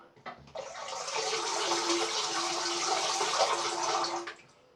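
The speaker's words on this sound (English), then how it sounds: "Give it a proper rinse" Water from a tap runs steadily over a magnetic Twig safety razor from Leaf Razors for a rinse, a close, continuous splashing rush lasting several seconds without talk.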